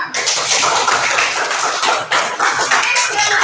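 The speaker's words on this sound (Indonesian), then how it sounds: "tepuk tangan semuanya." A classroom group bursts into sustained hand clapping, dense and continuous throughout, loud and close with a few brief dips.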